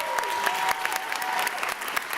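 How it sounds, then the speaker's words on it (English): Audience giving a round of applause for mentors at a university venture competition final, a dense steady clapping that fills the whole stretch with faint crowd voices mixed in. "Can you just stand up and let us recognize you and thank you with a round of applause?"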